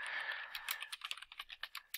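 Quiet typing on a computer keyboard, a run of quick irregular key clicks after a brief hiss, heard close and alone without talk.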